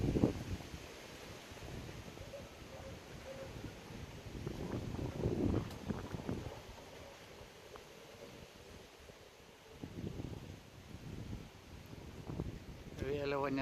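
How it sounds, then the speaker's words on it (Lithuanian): Gusty wind of shifting direction buffets the microphone outdoors during a pigeon race, rising and falling in uneven surges of rushing noise with faint rustling. "tas vėjas toksai va gūsiais."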